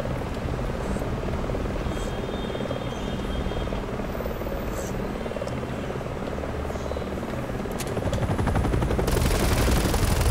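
Helicopter in the PC game Resident Evil 6, a loud continuous rotor chop with a rapid throbbing pulse. Gunfire-like bursts mix in, and the noise grows harsher and louder near the end.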